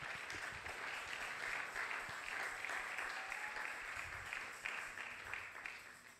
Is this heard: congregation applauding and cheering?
yes